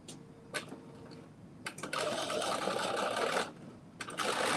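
A sewing machine stitches a garment's front to its back in short bursts, then runs longer, steady whirring stretches close by with nobody talking.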